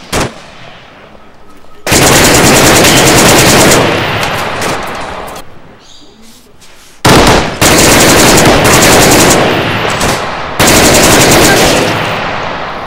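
Arma 3 combat gunfire erupts in loud, dense bursts of sustained automatic fire, broken by short quieter gaps before resuming in heavy volleys, with talk faintly mixed in.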